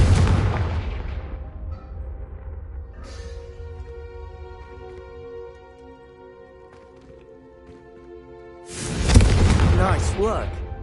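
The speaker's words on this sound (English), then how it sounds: "a Confringo cast travels a bit farther than that of a spell like Incendio" A Confringo fire spell blasting in Hogwarts Legacy, with a loud burst at the start and another sharp blast near the end around a stretch of sustained tonal game music, close and forceful.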